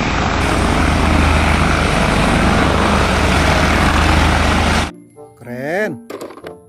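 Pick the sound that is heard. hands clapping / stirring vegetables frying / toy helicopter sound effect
toy helicopter sound effect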